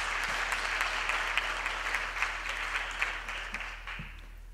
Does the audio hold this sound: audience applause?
yes